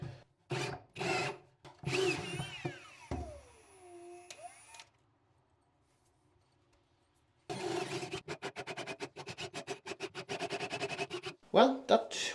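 A power drill whines and winds down, falls silent, then grinds in rapid stuttering pulses, clogged with sediment, aboard a motorsailer, with people speaking briefly between bursts.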